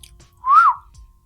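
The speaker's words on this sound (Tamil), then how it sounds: "சிம்பிளாக வந்து சும்மா ஒரு விசில் அடிங்க போதும்." A single short rising-then-falling whistle from a person, meant to toggle a phone flashlight, clear and close against near silence.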